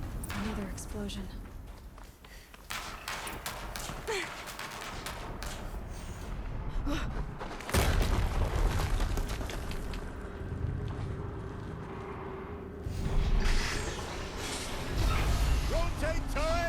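Another heavy explosion in Horizon Zero Dawn Remastered thumps in partway through, followed later by a second rumbling burst, all over continuous game noise and a talking voice.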